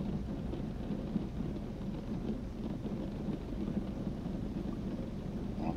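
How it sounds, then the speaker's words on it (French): Steady rain with a low rumbling thunder underneath in the video game American Truck Simulator, continuous and fairly quiet, with no voices. "On entend bien la pluie là."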